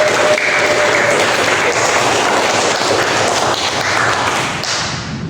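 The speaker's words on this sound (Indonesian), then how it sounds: "Beri tepuk tangan." A class of schoolchildren claps together in a lively burst of applause that stays full for several seconds and then thins toward the end, with a voice faintly underneath.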